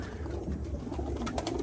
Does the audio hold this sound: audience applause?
no